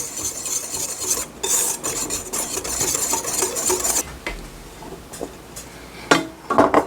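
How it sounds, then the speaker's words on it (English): Dry cookie ingredients with about half a teaspoon of salt are whisked together in a bowl for brown butter white chocolate chip oatmeal cookies, making close, scratchy rasping strokes in quick bursts, then lighter scrapes. "I'm just going to whisk that all together"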